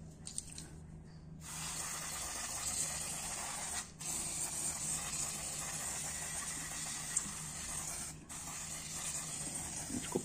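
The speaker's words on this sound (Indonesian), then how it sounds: "Disemprot-semprot gini aja, sekalian ngabisin" Contact cleaner hisses in a long continuous spray onto the magnet and stator area of a Yamaha Aerox scooter, fairly close and steady, broken by two brief pauses.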